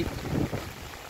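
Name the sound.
wind blowing on empty street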